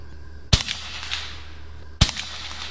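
Gauntlet air rifle with moderator firing Griffin pellets: two sharp, fairly close shots about one and a half seconds apart, each a brief crack with a short tail over a quiet background hum.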